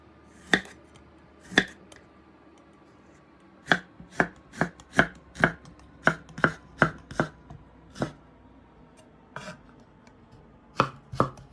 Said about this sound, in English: Fine chop them.